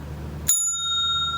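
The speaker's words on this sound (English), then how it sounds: "Yes, it's a bell." A single bicycle bell rings out sharply once, its bright metallic tone ringing on and slowly fading in otherwise quiet surroundings, heard alone with no voices.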